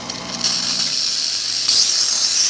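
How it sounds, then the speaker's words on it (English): An Isomac espresso machine's steam wand, freshly tuned up, lets out a strong, steady steam hiss that is loud and close and surges even louder partway through. "Nice strong steam."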